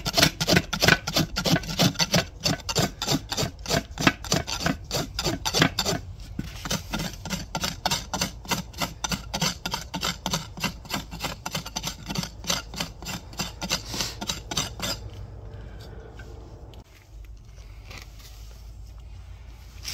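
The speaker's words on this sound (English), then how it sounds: "so we can rasp them off so we don't tear the foot up when we pull the shoe" A farrier's rasp files off horseshoe clinches on a horse's hoof in fast, steady back-and-forth strokes, close and gritty, continuing for about fifteen seconds before stopping.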